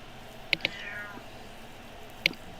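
A cat in a home meows in short, clear calls: two quick meows close together near the start and one more a little later, over quiet room tone.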